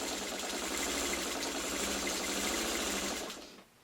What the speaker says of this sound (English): Now I'm just going to quickly run the rest of these through, just so I have all the little pieces sewn together.